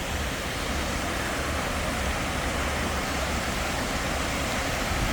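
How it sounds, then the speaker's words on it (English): The South Teign River in Devon near Fernworthy Reservoir rushes past in a steady, broad wash of flowing water, close and constant with no pauses or voices. "The South Tean River."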